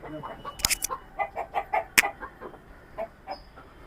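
Country chickens on a rooftop farm give a series of short, rhythmic clucks and squawks while being caught, close by, with a couple of sharp flapping or handling noises mixed in.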